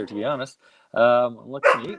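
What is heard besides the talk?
dog barking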